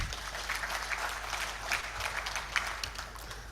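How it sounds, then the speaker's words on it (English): Sustained applause from an audience at a ministerial press briefing, many hands clapping in a continuous dense patter with a low room rumble beneath, moderately loud and steady to the end. "I think we should clap for the minister again"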